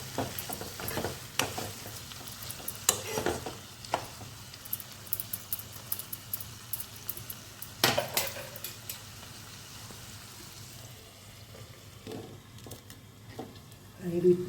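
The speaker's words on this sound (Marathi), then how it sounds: "दोन कांदे आणि एक टमॅटो घेतला त्याला हे असं परतून झाकून ठेवूया आपण" Onions and a tomato sautéing in a pan before being covered, soft sizzling with clattering stir strokes of a spoon, quiet overall with sporadic louder scrapes and a speaking voice in between.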